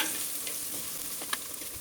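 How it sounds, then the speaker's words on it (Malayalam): Chili, coriander, pepper and cumin powders roasting in a pan, a faint steady crackle with a few soft scrapes of stirring, close and quiet. "ഇതെല്ലാം നന്നായിട്ട് യോജിപ്പിച്ച് ചെറുതായിട്ടൊന്ന് മൂപ്പിച്ചെടുക്കാം"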